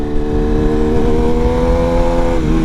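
BMW S1000RR sport motorcycle cruising on a road in midwinter, with a loud, close, steady engine drone and a tone that rises gently and then dips slightly near the end, under wind noise and with no talk.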